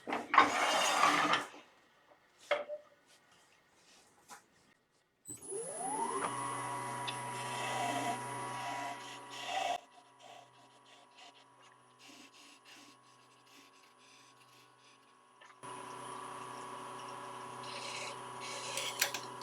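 A wooden spatula parted off on a spinning woodturning lathe: a steady motor hum with a scraping, rubbing cut that starts and stops a few times, after a burst of sanding noise at the start.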